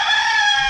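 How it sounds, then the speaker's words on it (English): A rooster crows in a short, loud, continuous call with no talk over it. "Rooster."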